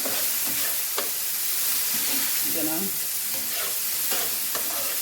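Sausage sizzling in a pan while shrimp and grits are being cooked, a close, steady frying crackle with occasional spatula scrapes and stirring knocks throughout.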